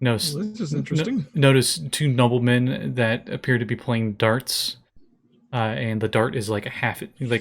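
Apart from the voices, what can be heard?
No distinct noise like a dog, phone or traffic.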